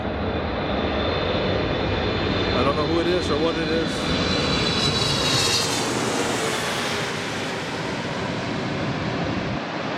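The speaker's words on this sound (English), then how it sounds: "I hear a 777 behind me, I hear it." A Boeing 777 jet airliner of Air New Zealand roars steadily overhead at LAX, a broad loud engine rumble filling the background while a person speaks briefly.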